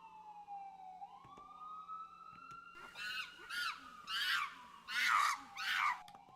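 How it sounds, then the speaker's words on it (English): A wailing emergency siren rises and falls, sweeping up and down in pitch, growing louder partway through with repeated swelling wails over a steady hum. "Sorry about the sirens"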